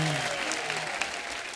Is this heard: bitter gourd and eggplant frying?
no